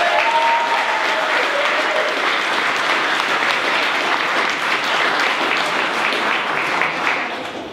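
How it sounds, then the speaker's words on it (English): A crowd at a mayor's reception applauds for about eight seconds. The clapping is dense and sustained, with no voices over it, and it tapers off slightly at the end. "I would like to give a round of applause at this point to George Mulray, our executive director."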